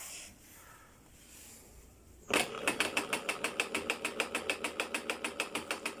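A Zoje industrial sewing machine, just repaired after an error 14 fault, starts after a quiet pause and runs in a fast, even mechanical clatter of rapid regular stitching beats, close and steady to the end.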